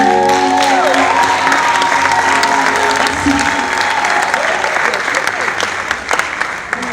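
Loud, dense applause from an audience at a short-film premiere fills the whole stretch, with cheering and crowd voices mixed in and a faint tonal background, easing slightly toward the end.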